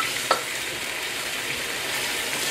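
Chicken and vegetables simmering in stock over high heat in a stir-fry pan with gochujang, giving a steady, even bubbling sizzle with one brief clink near the start and no voices.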